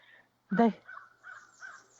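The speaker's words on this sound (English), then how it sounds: "I hear the crows" Crows caw outdoors, one loud caw followed by several fainter calls, close and clear against a quiet background.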